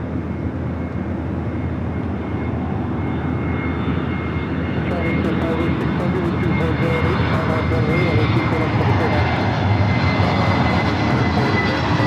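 An 11-year-old China Eastern Boeing 777-300ER departs Los Angeles International Airport, its jet engines producing a loud, sustained roar that swells over twelve seconds, with a voice talking over it.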